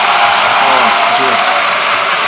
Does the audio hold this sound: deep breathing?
no